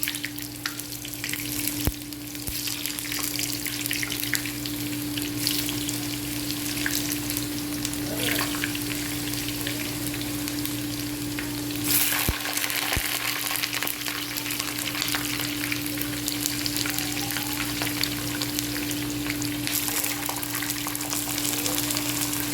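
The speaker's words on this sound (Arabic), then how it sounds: "ونشوف البطاطس بتاعتنا نحمرها" Potatoes frying in a pan of hot fat give a steady, fairly quiet sizzle that runs throughout, with a constant electrical hum beneath and a few brief clicks and clatters.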